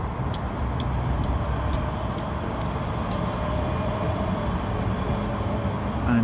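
A British Rail Class 385 electric multiple unit passes at a junction, a steady broadband rumble and rail roar holding at a constant level with faint high clicks from the wheels crossing rail joints throughout.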